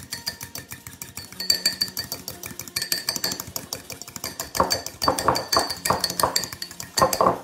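A fork whisks mayonnaise in a bowl with rapid, uneven metallic clinks and scrapes against the side, close up, growing a little louder and busier toward the end.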